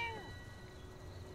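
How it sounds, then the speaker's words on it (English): A cat in the video game Fallout 76 gives one short, high meow that slides downward, then fades into quiet game ambience. "There's the cat."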